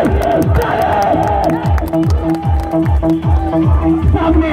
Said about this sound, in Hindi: एक बार हमारे इस अजूबे पैटर्न के लिए ताली